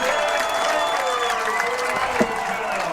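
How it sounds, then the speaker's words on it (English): A packed high school football stadium erupts at a Friday night game between Hamilton Heights and Noblesville after a pick-six touchdown, a loud, sustained roar of cheering and applause that fills the whole stretch, with a commentator's voice faintly underneath. "Look at this crowd go."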